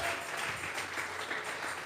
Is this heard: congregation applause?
yes